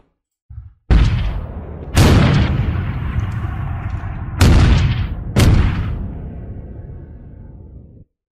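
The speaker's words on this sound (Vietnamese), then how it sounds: "Ba phát nổ đề pa của pháo 105. Nghe tiếng đạn bay vo vo qua đầu, rồi ung oang." A 105 mm artillery piece fires in a series of four heavy booms at uneven intervals, each blast loud and close, with long rumbling echoes that roll on and fade slowly between and after the shots.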